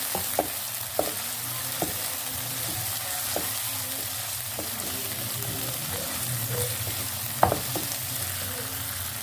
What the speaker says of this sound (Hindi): टमाटर डालेंगे और इसको मिला लेंगे अच्छे से।